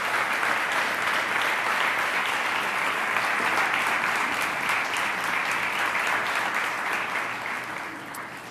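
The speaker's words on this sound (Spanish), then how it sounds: "Dale un gran aplauso al Señor." A church congregation at a Spanish-language Sunday service applauds, a dense, sustained wash of clapping from many hands that holds steady for several seconds before slowly tapering off.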